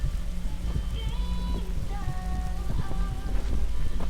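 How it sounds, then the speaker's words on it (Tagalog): Steady rain in a video game hisses continuously across the whole stretch, with faint tonal game sounds and brief talk layered underneath. "Umuulan eh."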